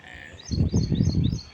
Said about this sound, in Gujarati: ભેંસો ધીમે ધીમે નીકળે છે